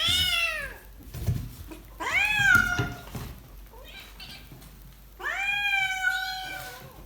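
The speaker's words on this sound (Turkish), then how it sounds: "sen ne güzel miyavlıyorsun" Cat meowing in a garden: three drawn-out, loud meows, close by, separated by short pauses, with faint background noise between calls.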